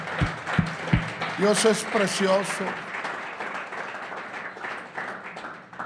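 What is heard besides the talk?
congregation applauding in church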